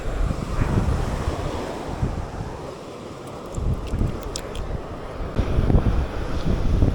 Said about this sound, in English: so still super windy